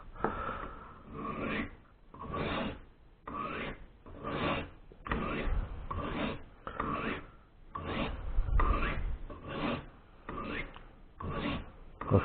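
A small Victorinox blade is drawn across the rods of a Lansky Deluxe Turn-Box sharpener in repeated, evenly spaced scraping strokes, close and crisp, about a dozen passes with short pauses between them.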